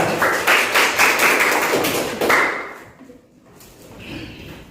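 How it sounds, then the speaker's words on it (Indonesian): A classroom group applauds a student team as it is introduced in an Islamic studies lesson. The quick, dense burst of clapping fades out after a couple of seconds, followed by a near-silent room. "Oke, tepuk tangan untuk kelompok 3."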